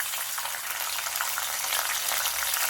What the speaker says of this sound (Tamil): இந்த வெந்தயம் பொறிஞ்சு வரும்போது நம்ம இந்த மணத்தக்காளியை போட்டு வதக்கி எடுத்துடலாம்